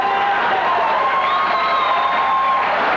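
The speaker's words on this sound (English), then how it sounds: "Please hold your applause." Audience applause and cheering at a 1993 Republican gubernatorial debate, a dense, steady wash of clapping and whoops that holds loudly throughout.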